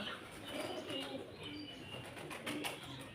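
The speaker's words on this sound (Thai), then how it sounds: "นี่เจอนกพิราบขาว" White pigeons at the grounds of Phra Tamnak Kham Yat palace in Pho Thong, Ang Thong, on an evening outdoors: soft cooing and a little wing flutter, faint against steady open-air ambience.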